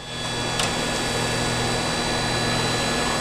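A stalled HP desktop computer that powers on but never boots, its fans and drive producing a steady close-up hum and whir with faint tonal whine, continuous and unbroken with no voices.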